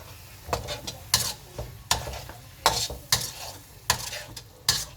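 Curry ingredients stirred in a wok, with repeated scraping strokes of a spoon or spatula against metal at a steady rhythm, over a quiet background sizzle, close up and with no voices.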